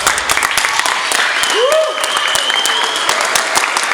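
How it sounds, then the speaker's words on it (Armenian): An audience at a tournament opening and coaches' award ceremony breaks into sustained applause, a dense, steady patter of many hands that continues throughout, with a voice rising briefly over it. "Ուզում եմ բոլորս ծափարենք այս տարեդարձի կապակցությամբ"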